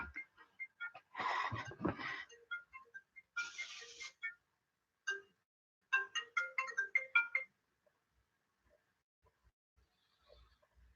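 A phone rings with a chirpy, repeating electronic melody in a few bursts, faint and close in a quiet room, then falls silent.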